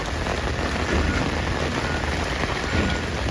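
Heavy rain pours down during flash flooding on 30th Avenue in Astoria, New York City, a dense, loud, unbroken hiss of drops hitting the street and surfaces.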